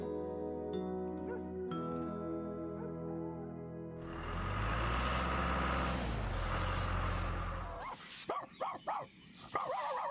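A dog barks in an animated children's farm cartoon: several loud, close yips and barks over music, then a few short whimpering yaps.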